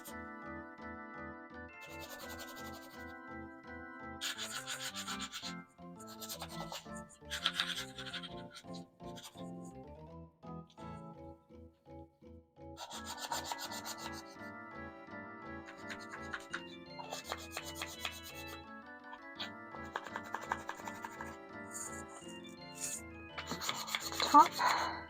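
Hand sanding a shiny finish on a wooden box with 220-grit sandpaper, heard as repeated short rubbing strokes in bursts, close and fairly quiet, over soft sustained musical tones.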